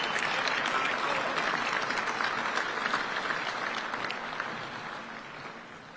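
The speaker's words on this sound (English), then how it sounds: "Michael Severe, give him a big hand." A crowd claps at the Jet Awards 2025 ceremony, a steady wash of applause that gradually thins and fades toward the end.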